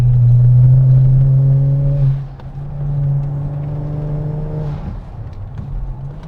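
A rear-wheel-drive Kia Stinger GT engine hums steadily at a strong, sustained pitch while taking corners, dips briefly, then drones on, with the tone shifting slightly as it drives.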